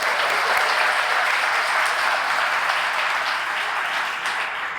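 A crowd applauds steadily at a Hall of Fame induction ceremony, a dense wash of many hands clapping that fades slightly toward the end.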